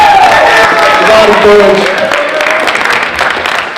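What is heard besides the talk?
audience applause for youth panel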